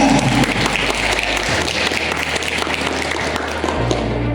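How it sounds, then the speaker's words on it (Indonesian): Audience applause at a fifth-anniversary celebration for LKP Dahlia Culinary, a sustained, dense wash of clapping from a gathered crowd, steady and fairly loud throughout with a low hum underneath. "Tepuk tangan untuk LKP Dahlia"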